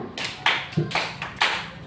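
Hands clap in a primary school classroom clapping routine, four or five sharp, fairly close claps in an uneven rhythm over under two seconds.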